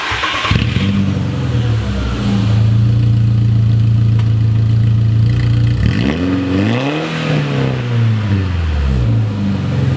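A VW Golf engine idles with a steady low hum, then revs up to around 4,000 rpm, rising and falling once in a loud, close sweep.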